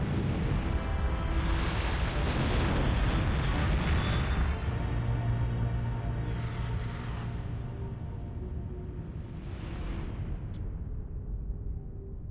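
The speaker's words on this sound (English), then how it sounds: "This little flyby exploding" A small flyby unit explodes in the original StarCraft, a loud broad blast with a rumbling tail over continuous game sound and music, followed by a fainter whoosh near the end.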